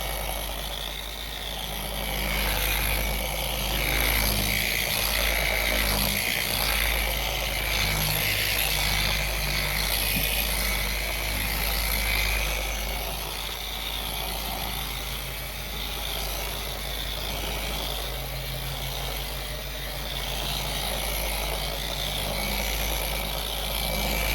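A buffer polisher spins at medium speed while compounding oxidized boat gelcoat, producing a steady droning motor whine with rising and falling mechanical hum that lasts the whole stretch, with no voices.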